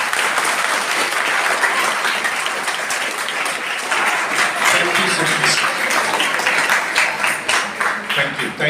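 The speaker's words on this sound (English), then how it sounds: "A big round of applause guys" Steady round of applause from a school audience at a ninth-class AI program, dense clapping that holds throughout and grows more uneven toward the end.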